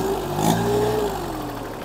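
A clean, original tractor with 3396 hours of use runs close by, holding a steady mid-pitched engine drone with a faint whine that dips slightly in pitch.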